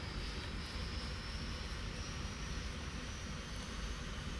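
An aircraft engine winds up in the X-Plane 10 flight simulator, a constant, dense, loud drone with a faint high whine on top. The roar holds steady throughout, and nobody speaks.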